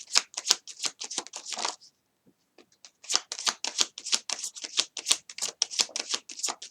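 Tarot cards being shuffled up close, a fast flurry of crisp riffling flicks, a brief pause, then another long rapid run of snapping card sounds, with no voices.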